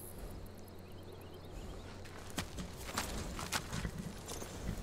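Horse hooves clip-clop at a steady walking rhythm in the Skyrim video game, mid-distance and moderately loud, with light ambient game sounds beneath and scattered sharper knocks toward the end.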